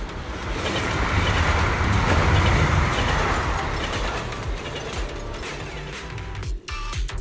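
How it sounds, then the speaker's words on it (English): A train rolls through an area in the video game Zenless Zone Zero, a dense rattling and clanking of wheels and mechanisms that swells and then eases, loud and continuous, with no voices. "The train will soon pass through the area."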